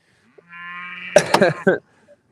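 A cow on a cold, soggy farm morning gives one long, loud, close moo that rises into a rough, broken ending, alone with no talk.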